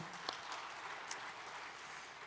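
Church congregation clapping during a Sunday sermon, soft and somewhat distant, steady patter with a couple of sharper claps standing out.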